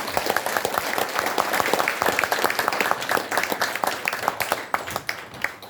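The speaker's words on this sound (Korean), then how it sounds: "김희수 대표님께 다시 한번 감사와 격려의 박수 부탁드립니다" Audience applause at a ceremony launching a campaign for independence-movement honours: a dense, sustained round of clapping from a sizable crowd indoors, loud and steady with individual claps standing out.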